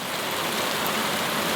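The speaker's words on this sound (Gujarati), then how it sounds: "ધબધબાટી બોલાવે જો વરસાદ." Heavy rain pouring down during a motorcycle ride outing, a dense, steady hiss of rainfall close by, loud and unbroken through the short moment, with no talking.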